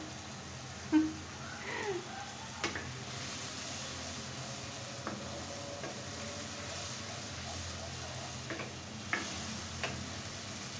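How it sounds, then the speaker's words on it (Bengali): Masala spice paste stir-fried in a pan for a red leaf-vegetable dish, giving a quiet steady sizzle broken by a few sharp ticks and scrapes of the spoon against the pan, with no talking. "আমি এখন খুব সুন্দর করে এটাকে ভোনা ভোনা করে নিব মশলাটাকে"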